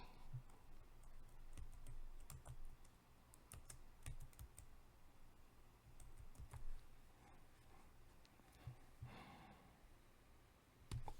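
A computer keyboard gets typed on in quick, irregular bursts of light clicks at close range over a quiet office-like background, with occasional breaths and no talking.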